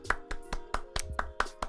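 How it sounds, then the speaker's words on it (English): A single person's hands clapping about nine times in a steady, even rhythm, close and crisp with nothing else around it. "Round of applause for me."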